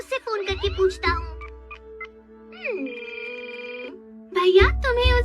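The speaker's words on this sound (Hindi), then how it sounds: "अभी उससे फोन करके पूछता हूँ।" Telephone in a Doraemon cartoon being dialed and ringing: a run of steady electronic tones, then a long sustained ringing tone, with a voice talking before and after.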